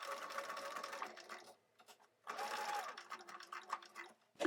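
Sewing machine stitching a quarter-inch seam around a curved collar on tiny doll clothes, a steady close whirring run that pauses briefly, then resumes with slight speed changes as the fabric pivots along the curve.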